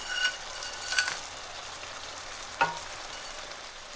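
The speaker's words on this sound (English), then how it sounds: "I've just fried everything together for a little, I think about 30-40 seconds, all the spices." Whole spices fry in oil for a chicken biryani: cinnamon, bay leaves, cloves, green and large cardamom, star anise and black peppercorns give a soft, even sizzle with a few faint clinks of stirring, and no voices.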